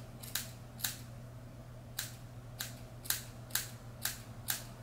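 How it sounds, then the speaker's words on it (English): Scissors snip repeatedly while point cutting a pixie haircut, eight crisp, close cuts at irregular intervals over a steady low hum. "Like point cut into it."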